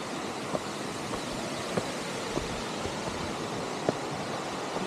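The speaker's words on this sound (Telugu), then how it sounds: "సో ఇప్పుడు వాటర్ ఫాల్ దగ్గరికి అయితే వెళ్తున్నాం." Tiryani waterfall in Telangana, a steady broad rush of falling water filling the air at a moderate distance, with a few faint clicks and knocks nearby and no talking.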